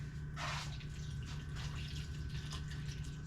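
Water runs into a container to fill it, a bright splashing pour near the start followed by softer intermittent trickles and splashes over a steady low hum, close by and without talk.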